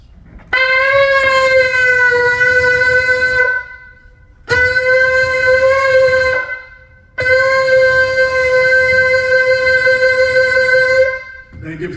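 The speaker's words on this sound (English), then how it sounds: "They give 3 blasts before they actually started their religious services on a shofar" A ram's horn shofar blown in three long, steady blasts, each a loud sustained brassy tone separated by short pauses, the last one longest.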